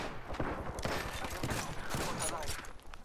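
Rapid gunfire in the battle royale game Apex Legends, with dense bursts of loud shots crackling one after another throughout and faint game voice lines underneath.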